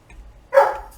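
A dog barks once indoors from another room, a short muffled burst after quiet, the dog restless and wanting to go outside.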